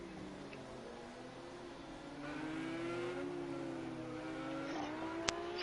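A yellow 1976 Porsche race car at Fuji Speedway, its engine a steady droning note that rises slightly as it accelerates, heard at moderate distance with a brief sharp click near the end.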